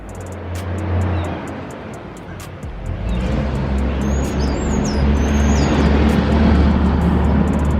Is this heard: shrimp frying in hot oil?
no